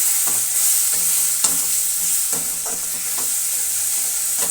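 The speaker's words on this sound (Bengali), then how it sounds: "আর এই যে কাঁচা লঙ্কা দিয়ে দিলাম।" Green chillies are dropped into hot oil in a pan and crackle in a loud, continuous sizzle, with soft stirring taps that come back at a regular pace.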